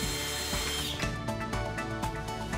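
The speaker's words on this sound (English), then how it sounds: "drill pilot holes" A power drill bores pilot holes through two layers of a VX350 moving glass wall panel frame, whirring steadily and loudly with short pulsing bursts, close up and without talk.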